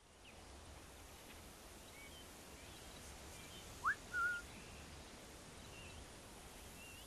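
A short two-note whistle in the Assassin's Creed 4 Black Flag game, faint against a steady hiss of quiet ambient game sound.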